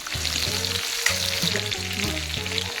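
Tomatoes sizzle and fry in a hot pan for Hakka noodles, a steady close crackle that runs throughout with a brief stir or clatter of utensils partway through.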